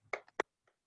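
A few sparse hand claps during a children's online class call, two or three sharp close claps with gaps between them and no voices.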